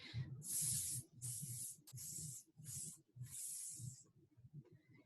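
A voice imitates a snake's hiss with a letter S sound, making five or six sustained, close hisses separated by short pauses.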